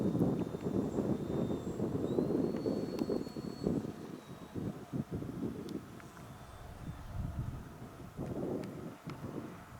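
A Durafly Me 163 Komet RC rocket-fighter model slowing to land, heard as wind-buffeted whooshing and a faint high motor whine passing overhead outdoors, rising and easing over several seconds with no speech.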